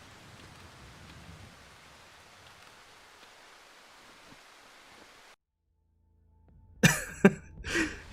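Steady rain hisses in a foggy swamp in the survival horror game Darkwood, a soft even wash that cuts off abruptly, followed by a few loud sharp sounds.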